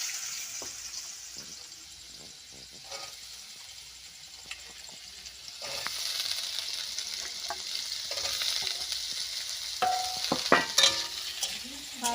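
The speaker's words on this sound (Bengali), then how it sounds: "সাদা তেলে সাদা আলু ভাজা হচ্ছে, সাদা তেলে সাদা আলু ভাজা" Potatoes frying in white oil in a village kitchen, a steady crackling sizzle growing louder midway, with occasional utensil scrapes and clinks of stirring.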